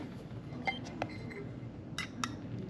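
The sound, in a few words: spoons clinking while measuring Miracle Whip mayonnaise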